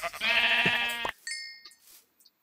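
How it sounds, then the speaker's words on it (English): A video game sheep lets out a loud, nasal bleat, followed by brief quieter electronic game sound effects. "Well, let me kill this sheep."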